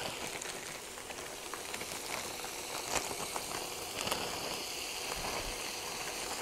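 Diced potatoes frying in a breakfast skillet, a steady soft sizzle and crackle held at low level throughout, with a few faint pops.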